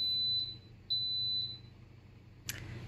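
An Instant Pot beeps as its yogurt program switches to the boil setting, giving three short, high electronic beeps in a quiet kitchen, with a small click near the end.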